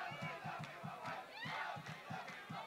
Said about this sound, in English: Crowd's starting to crank up a little bit here as the ball's knocked away